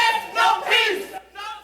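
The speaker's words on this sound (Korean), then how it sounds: "예상보다 낮은 형량 선고에 법정 밖에 시민들은 야유를 쏟아냈습니다." A crowd of citizens gathered outside a courthouse erupts in booing and jeering at a sentence, loud bursts of massed voices rising and falling over under two seconds.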